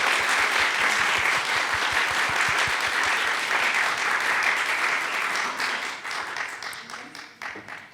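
Full audience applause at a youth symposium on climate and nuclear justice, loud and dense at first, then thinning into scattered claps as it dies away.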